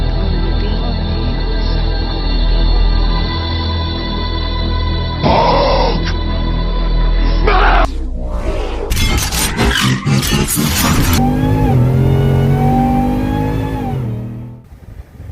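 A stock 2021 Ram 1500 pickup truck's engine revs up loud and close, climbing in pitch as it accelerates hard, with gear shifts, no talking.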